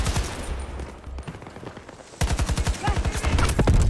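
Turret fire in Battlefield 2042 rattles in rapid bursts, with a steady stream of close, punchy shots kicking in halfway through over a background of distant battle noise.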